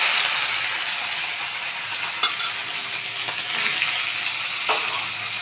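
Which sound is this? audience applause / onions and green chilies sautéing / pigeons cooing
onions and green chilies sautéing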